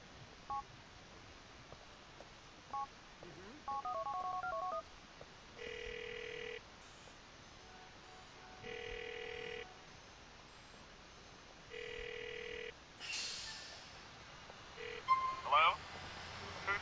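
In GTA IV, a phone dials a quick string of touch-tone beeps. Three evenly spaced ringback tones follow, then a short burst of static, all fairly soft against the quiet game background.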